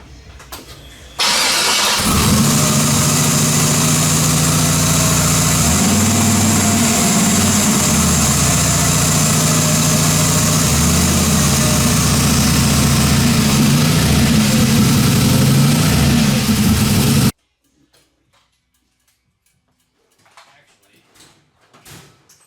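A TBSS truck with a freshly swapped breadbox intake starts and idles loudly and steadily up close for about fifteen seconds, then shuts off, leaving faint handling noises.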